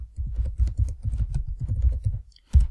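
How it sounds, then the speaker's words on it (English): Typing on a computer keyboard: quick, irregular runs of close clicky keystrokes with brief pauses and a final sharper key press. "then you can type in your title"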